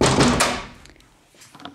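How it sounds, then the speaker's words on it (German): A door is shut indoors with a single dull thud and rattle at the start, fading quickly into a quiet room with a few faint knocks afterward. "ich mache hier wieder die Tür zu"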